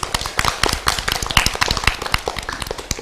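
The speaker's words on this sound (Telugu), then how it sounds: "అందరు క్లాప్స్ కొట్టండి" A small group claps for a child who has just recited numbers in Sanskrit, loud and close, sharp irregular hand claps running steadily for the full stretch with no talk over them.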